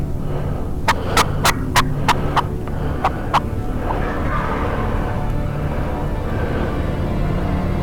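Wild turkeys gobble during a turkey hunt in Oklahoma, a rapid run of sharp, loud, close clucking calls in the first few seconds, followed by quieter rustling and faint background noise.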